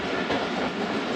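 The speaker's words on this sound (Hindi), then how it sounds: "शादरा बाग जंक्शन रेलवे स्टेशन पास हो रही है ट्रेन।" Jaffar Express train rolling through Shahdara Bagh Junction station, a dense continuous rumble of wheels and carriages, steady and close, with no voices.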